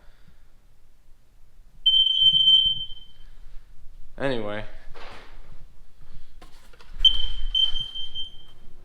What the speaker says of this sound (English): this is my freaking monoxide detector's going off